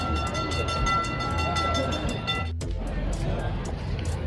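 Rumble and steady rolling noise inside a train moving through Istanbul, a continuous loud rattle with a brief drop near the middle before the running noise resumes; no clear talk over it.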